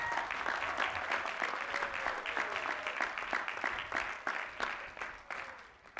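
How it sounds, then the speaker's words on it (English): Hearty applause from a commencement audience honoring graduating Doctors of Education and Doctors of Philosophy, a dense steady wash of many hands clapping that carries on for several seconds with only slight easing toward the end. "Please recognize the 2020 Doctors of Education and Doctors of Philosophy with our hearty"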